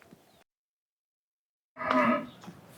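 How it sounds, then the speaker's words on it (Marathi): A cow moos once, fairly close and loud, after a brief silence, with a bit of faint background noise before it. "ते गाय वरडते"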